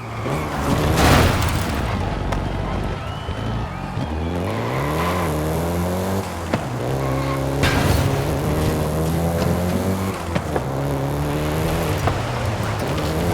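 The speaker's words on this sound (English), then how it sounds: "including the Golf GTI you're driving right now" A Volkswagen Golf GTI driven in Forza Horizon 5, its engine rising and falling in pitch through repeated gear changes, a steady close drone with road noise and occasional thumps beneath it.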